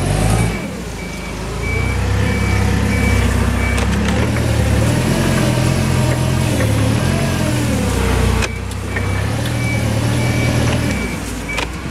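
A forklift engine runs steadily nearby while a reversing alarm beeps in a regular pulse over the engine. The engine rises and falls a little as the machine moves, then drops briefly before carrying on.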